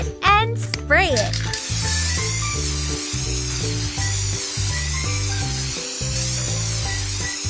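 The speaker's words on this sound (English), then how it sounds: "Shake it and spray it." Spray bottle spritzing in a children's pony pet care game: soft, hissing spray bursts over a bouncy, looping game melody, with a few quick cartoon sound effects at the start.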